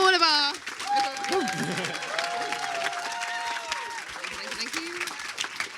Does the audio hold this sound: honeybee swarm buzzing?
no